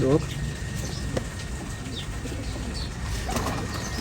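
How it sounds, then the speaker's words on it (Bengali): A male Ferozpuri pigeon gives low cooing near a faint voice, with a brief flutter of wings and light background noise. "এটা হচ্ছে নর কবুতর"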